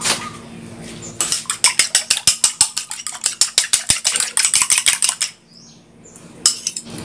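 A utensil scrapes and clinks rapidly against a bowl while egg is stirred into curry paste for fish curry custard, a dense run of sharp metallic strokes that pauses briefly, then resumes.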